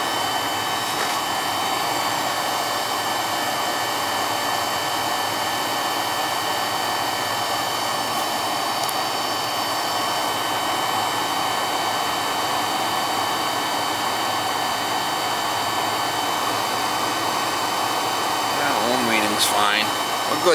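Carlin EZ1 oil burner running rough from lack of maintenance, a steady loud roaring hum with tonal whine, continuous and close throughout, with a brief rising squeal near the end.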